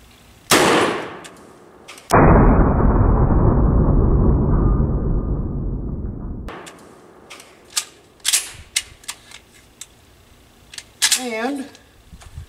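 A 12 gauge shotgun is fired at a door from a steep angle: one loud close blast, then a long bright ringing decay, followed by smaller clanks, handling noise and a voice.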